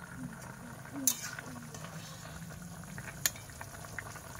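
A small-fish curry with potatoes simmers at a rolling boil in a pot, a soft, steady bubbling hiss close by, with a few faint clinks of a utensil and a voice speaking over it.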